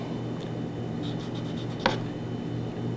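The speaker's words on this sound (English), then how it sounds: "Now when you cut a lime," A knife slices through a lime in a bar setting, giving soft cutting and scraping strokes with one sharper tap as the blade meets the board, close and fairly quiet against a steady hum.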